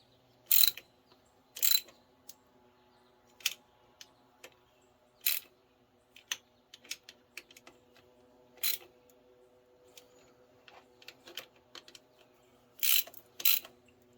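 Ratchet wrench tightening water pump bolts on a New Holland machine, heard as sharp, clicking bursts spaced irregularly across the stretch, close and clear against a quiet background.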